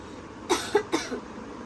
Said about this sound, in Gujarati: ઉધરસ થઈ ગઈ છે આને